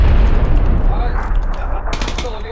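A grenade explosion in a video game, heard as a loud blast that rumbles and decays, with gunfire and battle noise close behind.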